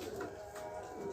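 Sherazi pigeons coo softly and continuously in a loft, low murmuring calls heard faintly over a steady background hum.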